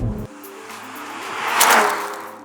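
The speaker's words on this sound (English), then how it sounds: "Right now in Sport Plus mode, it is just racing for the red line." A 2019 BMW Z4 Roadster in Sport Plus mode, engine revving up toward the redline, with a low thump at the start followed by a rising engine and road roar that builds to a louder peak.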